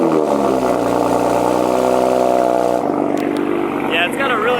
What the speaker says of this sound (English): Yeah, it's got a really good cold start to it. Definitely love the way that thing sounds.